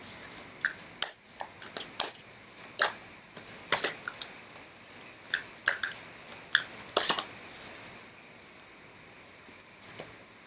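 Quick papery riffles and soft taps of tarot cards being shuffled, coming in short irregular bursts close by with brief pauses, no talking.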